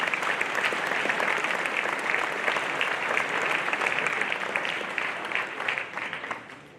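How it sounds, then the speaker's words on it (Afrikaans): At a high school inter-house athletics prize-giving, a large crowd of students claps in a broad, even wash of applause that holds steady, then tapers off in the last second. "So gee vir hulle lekker hande klap"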